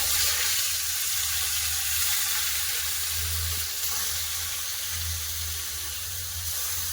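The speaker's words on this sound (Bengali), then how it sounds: "তেল গরম হয়ে গেছে মাছ দিয়ে দেবো" Fish fries in hot oil in a wok, a continuous broad hiss that stays fairly even and moderately loud throughout, with no talking.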